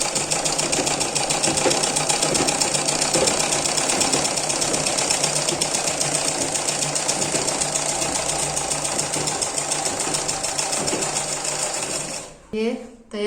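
A sewing machine stitches a folded waistband strip for a simple blouse. It makes a loud, close, unbroken mechanical whirring with a fast needle rhythm for about twelve seconds, then stops, leaving a few brief handling clicks.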